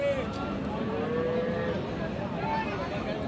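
A Friesian cow moos in drawn-out low calls amid a noisy cattle market at Raniganj, Dinajpur, with people talking around it.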